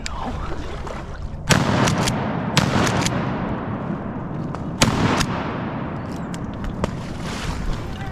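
Shotgun blasts ring out during a public-land duck hunt in Arkansas: a few loud, sharp reports in quick succession at about a second and a half, then another pair near five seconds, over steady outdoor background noise.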